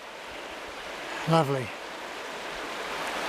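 Fast-flowing stream water rushes in a steady, close, full hiss while trout fishing among slippery rocks, with someone briefly speaking over it.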